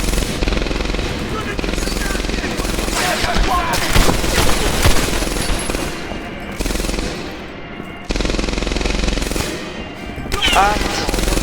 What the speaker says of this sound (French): deux canons qui sont pas très loin